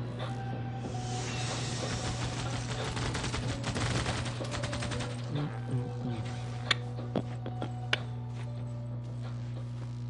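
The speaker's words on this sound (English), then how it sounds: "keep bombing them" A bombing attack in Civilization Revolution, with a sustained crackling barrage of explosions and gunfire over a steady droning hum, thinning out into a few scattered sharp ticks and pops toward the end.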